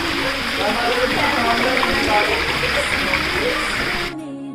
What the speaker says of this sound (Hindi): और अब सुनिए बहते हुए पानी की कलकल करती हुई आवाज़